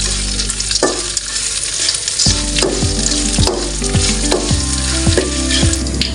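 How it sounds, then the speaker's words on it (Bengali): Panch phoron spices frying in hot oil for a sour-sweet-spicy jujube pickle, a loud continuous sizzle with repeated scraping and stirring knocks from a spoon against the pan, close up. "2 চামচ পাঁচফোড়ন দিয়ে দিচ্ছি। এবার একটু ভেজে লাল করে নিব।"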